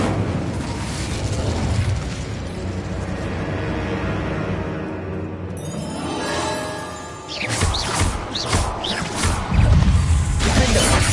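An Incendio fire spell cast in Hogwarts Legacy roars with a loud, rumbling whoosh of flame that builds and then breaks into bursting, crackling blasts near the end, with no talking.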